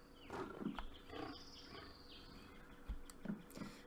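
A lion roaring in the survival video game Hold Your Own, a few rough, growling calls spaced across the moment, faint and distant over a quiet ambient bed of wildlife sounds.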